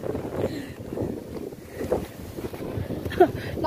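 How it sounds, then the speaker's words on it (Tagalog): Strong gusting wind buffeting the microphone outdoors at Quezon City Memorial Circle, a rough low rumble that swells and fades in uneven bursts, with faint voices mixed in. "Ah, lakas ng hangin."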